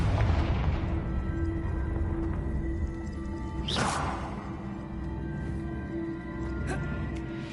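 A Confringo blasting spell cast in Hogwarts Legacy bursts with a whooshing boom over a dense, roaring battle backdrop, one sharp blast standing out midway.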